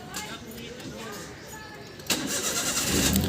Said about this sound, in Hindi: इंजन आपका स्टार्ट हो गया